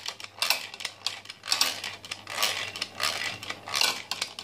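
Homemade mayonnaise made with soybean oil is beaten in a bowl, a rapid, rhythmic series of metallic clinks and scraping whisk strokes, close and steady, with no voices.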